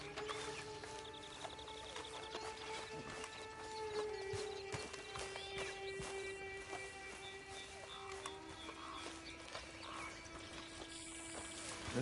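Horse hooves clip-clop steadily in Red Dead Redemption II, a moderate, even gait over a layered game soundtrack with tonal music, heard without talk.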